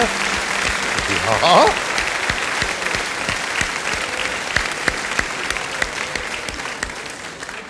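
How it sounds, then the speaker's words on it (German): A large audience at a Musikantenstadl folk-music TV show in Bruck an der Mur claps steadily and loudly. The dense applause continues throughout, and a brief voice rises over it near the start. "Klatschen müssen wir."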